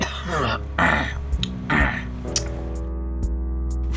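A person coughs and clears their throat in a few rough, close bursts over a steady low hum, then quiets down.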